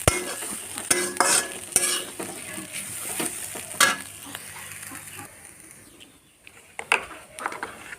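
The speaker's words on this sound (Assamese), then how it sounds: "জুইটো কমকৈ দি এইখিনি এনেকৈ অকণমান সময় ভাজি থাকিব।" Food frying over a low flame while spices are stirred in a pan for a coconut fish curry, giving a close, steady soft sizzle with scraping stir sounds and a brief quieter stretch near the end.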